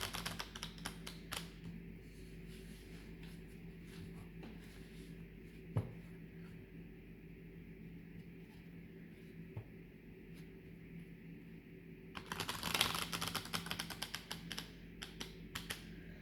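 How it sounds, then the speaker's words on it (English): A deck of similar-looking cards of varying sizes is shuffled: a dense, crackling burst of quick riffling clicks near the end, after a long stretch of quiet low hum with a few isolated taps. "I'm just going to take this deck and shuffle it"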